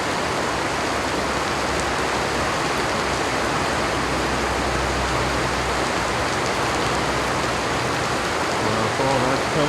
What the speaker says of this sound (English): We'll kind of be on the outer bands of some strong rain